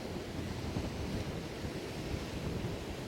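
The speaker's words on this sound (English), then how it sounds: "It is quite windy" Steady wind buffeting a camera microphone on a windy Sardinian seashore, a continuous loud rumbling roar with surf noise mixed in and no speech.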